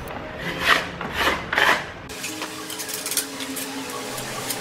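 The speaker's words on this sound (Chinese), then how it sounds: "不过像这种螺丝孔啊，简单讲就是勾上去刮一刮而已。" A tool scrapes out a screw hole in a painted wall, three short rasping strokes close by, followed by lighter scratching and scraping.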